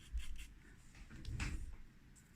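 A pencil held halfway along its length sweeps light freehand arcs across paper while an ellipse is drawn, giving a faint, soft scratching rub in two brief strokes.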